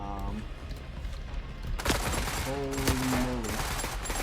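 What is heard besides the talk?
gunfire in the video game The Forever Winter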